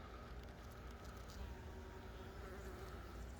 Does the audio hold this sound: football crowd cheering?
no